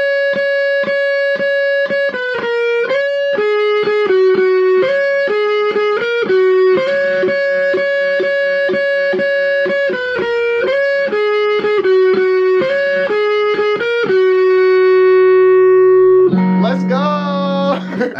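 An electric guitar plays a riff slowly, with a distorted tone. A loud, steady run of picked notes ends in a final ringing chord, close and alone.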